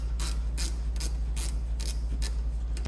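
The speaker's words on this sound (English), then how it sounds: "Removing the lower bolt first to stop the caliper from swinging down when you undo the bolt." A brake caliper bolt is ratcheted loose on an Alfa Romeo Giulietta during rear wheel bearing work, with a steady series of rhythmic ratchet clicks over a constant low hum, close and fairly clear.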